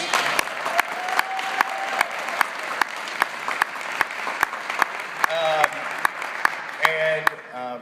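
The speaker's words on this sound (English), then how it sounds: "Give him a round of applause." Steady applause from a crowd, with sharp clicks scattered regularly throughout and a few brief tonal bursts near the end.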